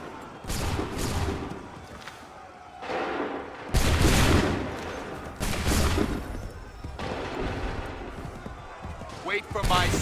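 Musket volleys fired on command in Assassin's Creed 3, with several loud, booming bursts scattered across the stretch and shouted voices over and between the shots.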